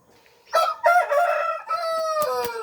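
A Shamo rooster crows loudly and close by, a long harmonic call stretching over the clip, with brief clucks from his four hens around it.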